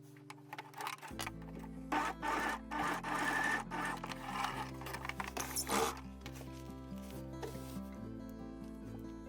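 A sewing machine runs in short bursts, stitching down jacket pocket triangles, its needle clattering rapidly and steadily, stopping and restarting, with no talking.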